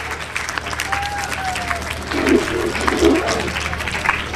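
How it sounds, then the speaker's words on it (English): Audience clapping at a 2021 school speech competition at GSS, a steady patter of hands with a few louder swells and a faint voice or whistle tone drifting over it. "Just clap for them, no hooting."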